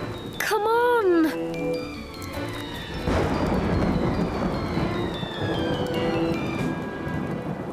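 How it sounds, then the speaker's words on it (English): Cartoon thunderstorm, a brief high voice at the start, then a rumbling crack of thunder followed by steady rain pattering on surfaces and continuing at a moderate level. "Here comes the storm."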